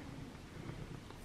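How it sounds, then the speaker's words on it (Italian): Soft, steady purring from a white kitten with a little orange, close by and low, running without a break through a short quiet moment. "Ma guardalo sto gattino!"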